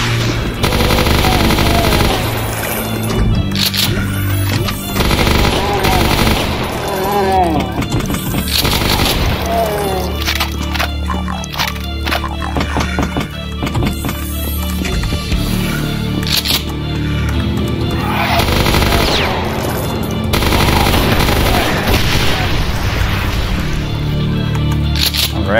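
Rapid, loud weapon fire from the video game The Ultimate Doom, level Phobos Lab, shots bursting continuously over game music and effects for the whole stretch.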